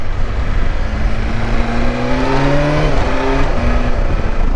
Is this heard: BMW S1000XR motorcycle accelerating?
yes